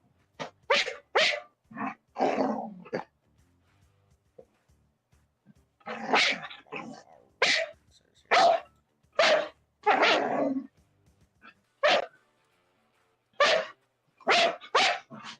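A dog barks and growls in repeated loud bursts, close by, with irregular pauses between clusters of sharp barks and rough growls; no talking is heard.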